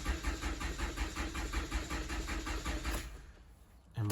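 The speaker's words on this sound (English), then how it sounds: "Now you just want to give the car a crank." A Toyota 2AR-FE car engine cranks over with its fuse pulled so it cannot start, the starter churning in a steady loud rhythm for about three seconds before cutting off into near silence.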